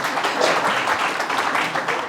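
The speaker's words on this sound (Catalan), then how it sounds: "No estava preparat per aplaudiments en aquest moment, però els agraeixo" An audience at an astronomy lecture on the geometry of the universe breaks into applause, a dense, steady patter of many hands clapping close together for a couple of seconds.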